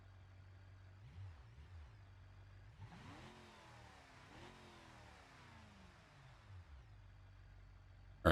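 Car engine revving in the BeamNG driving game, RLS career mode with a loaner van, rising and falling in pitch through several sweeps at a moderate distance, mostly steady with a sharp burst at the very end.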